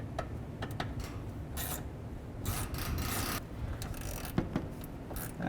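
A ratchet snugging down screws on the front bumper cover of a 2005-2010 Jeep Grand Cherokee, close quiet clicking and rubbing bursts in an uneven rhythm, no talk.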